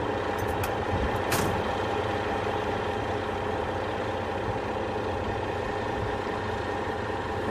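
A big tow truck idles steadily and loudly as its tow bar is lowered toward a trailer, with a few short hissing bursts early on over the constant engine drone.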